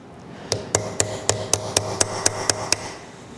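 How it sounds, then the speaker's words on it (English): A small hammer taps a chisel against a Willys Jeep Dana 25 front axle spindle, about ten sharp metallic strikes in an even rhythm, close and distinct, with no talking. "I'm going to use a small little chisel and a little hammer"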